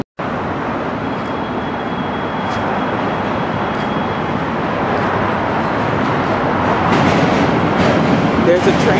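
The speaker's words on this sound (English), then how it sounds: "There's a train that passes in the middle of the N and the Q train." A subway train rumbles steadily across the Manhattan Bridge, a broad continuous roar with faint rattling that swells slightly louder toward the end; voices murmur faintly underneath.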